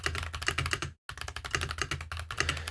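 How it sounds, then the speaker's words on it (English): Rapid clattering keystrokes on a loud computer keyboard sitting very close to the microphone, a dense stream of sharp clicks with one brief pause near the middle, no speech. "It's probably because my keyboard is like super close to my microphone"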